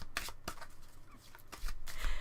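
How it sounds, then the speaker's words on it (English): A deck of playing cards is shuffled close by during a casual home card game. The riffles come as quick papery bursts, with small clicks and rustles between them, and no talk. "let me shuffle them"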